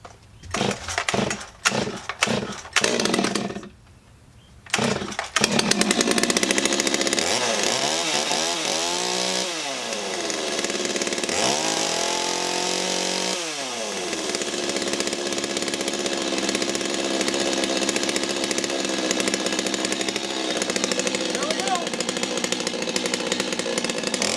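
Holzfforma G255 chainsaw fitted with a used replacement muffler: several sharp pull-cord starting attempts, then the two-stroke engine catches and roars, revving up and down a few times before settling into a loud, steady run close by.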